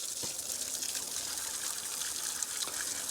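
Water from a garden hose with no sprayer runs onto the OM617 diesel engine of a W126 Mercedes 300SD, a steady soft splashing hiss at low pressure with no talking.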